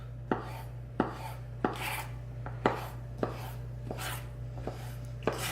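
A knife cuts roasted bell peppers into long julienne strips on a board. About ten crisp, evenly spaced taps sound close by, with no talking.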